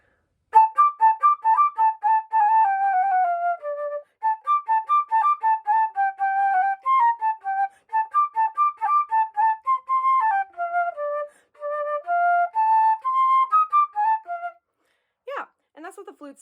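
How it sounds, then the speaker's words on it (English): A flute, played by a middle school band student, carries a bright melody of separate tongued notes at a steady moderate pace. It sounds clear and close, with no other instruments and a short noisy burst at the end. "flute specifically, sounds something like this"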